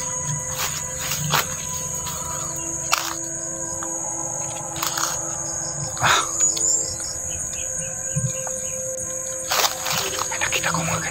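Insects buzzing and chirping outdoors in nature, a steady high continuous drone with scattered bird calls and sharp clicks, and a faint voice in the background.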